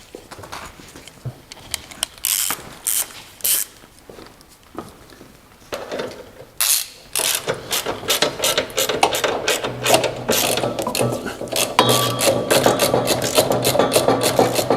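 A hand ratchet snugs the bolts of an ASFIR gearbox and transfer box skid plate. Short bursts of close, sharp clicking with pauses give way to a long run of fast, continuous ratcheting.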